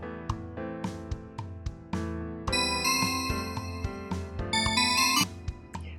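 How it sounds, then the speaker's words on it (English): Shimmering Bells mallet patch from the Alchemy synth in GarageBand plays a bright, ringing melody of struck notes with sparkling tails, clean and alone. "select Alchemy Synths. Click on the button at the top and select Mallets. After that, select Shimmering Bells."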